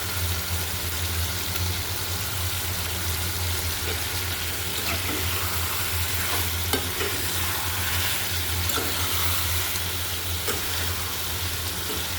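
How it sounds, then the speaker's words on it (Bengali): Fish being stirred in a pan of spiced tomato masala for a bagair fish curry, with continuous close sizzling and occasional scraping from the utensil throughout, no voices. "মাছটা এভাবে নেড়ে চেড়ে মশলা দিয়ে মিশিয়ে দিব আগে।"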